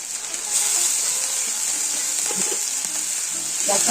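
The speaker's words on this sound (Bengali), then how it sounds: "এরপর এর মধ্যে দিয়ে দেবো আদা রসুন পেঁয়াজের পেস্ট।" Ginger, garlic and onion paste sizzles steadily in hot oil over already-fried onions for chicken curry, a loud continuous frying hiss with a few soft stirring knocks near the end.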